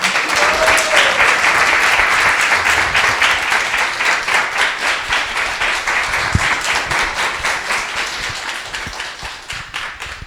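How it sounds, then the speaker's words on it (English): A crowd at a devotional celebration gives a loud round of applause, dense at first and then settling into a rhythmic, gradually fading clap. "So let's give a big round of applause."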